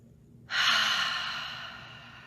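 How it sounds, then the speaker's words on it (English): A single slow, deep breath is released as an audible breathy sigh, close and soft, fading gradually after a quiet start. "we'll breathe in through the nose. Big sigh out through your mouth."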